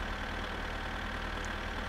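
Tractor engine in the game My Summer Car running at steady revs, a continuous droning rumble with no change in pitch, close and loud with no voices.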